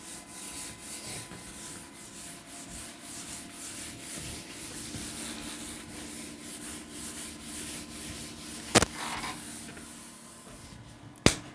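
Writing is being rubbed off a classroom board with a duster, making a steady, close rhythmic scrubbing that lasts several seconds and ends with a couple of sharp knocks.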